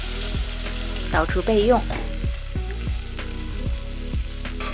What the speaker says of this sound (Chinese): 用黄油把鸡肉煎到半熟，